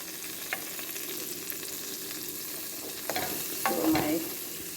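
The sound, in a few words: child stirring minced garlic frying in pan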